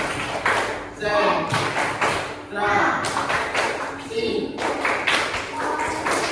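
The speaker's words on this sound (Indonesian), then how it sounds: "Seperti biasa itu tepuk konsentrasi" A school class claps in unison through the 'tepuk konsentrasi' concentration routine, with sharp rhythmic bursts of clapping repeating over a teacher's voice and pupils calling out.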